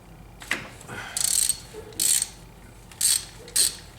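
Ratchet on an extension loosening a spark plug on a 2004 Nissan Xterra 3.3L V6, giving four short, close clicking bursts spaced about half a second apart with quiet gaps between them.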